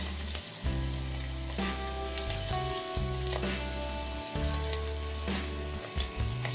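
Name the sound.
chopped onions frying in hot mustard oil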